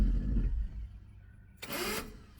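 A turbocharged Honda Accord's engine cranks and struggles to start, a low churning rumble at first, then a brief harsh whirring burst of the starter before fading, heard fairly close with no talking.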